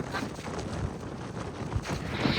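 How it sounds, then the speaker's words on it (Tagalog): Wind rushes steadily past on the front deck of a ship in a broad, soft roar, with occasional low buffeting bursts, moderately faint and continuous. "Mahangin dito sa harapan ng barko"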